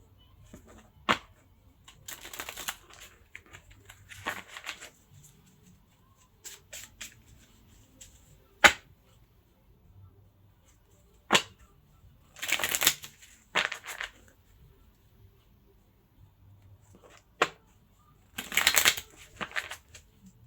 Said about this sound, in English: bear with me while I align the cards here